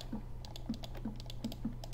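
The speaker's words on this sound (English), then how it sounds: "I'm just clicking madly" Computer mouse clicked in quick succession, about five sharp clicks at a steady rhythm over a constant low hum.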